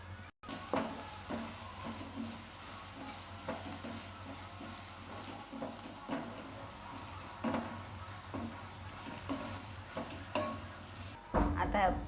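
Coarsely shelled pigeon pea kernels are stirred into besan in a hot pan, a quiet ongoing sizzle broken by soft repeated spoon scrapes against the metal.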